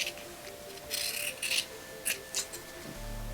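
Scissors cut through stretchy t-shirt fabric in several short snips and crisp slicing strokes, close and fairly quiet over a faint background hum.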